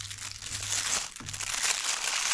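Paper packaging sleeve of a PROMISE cigar torch lighter crinkles and rustles steadily for a couple of seconds, a close, dry crackling handled without any talk.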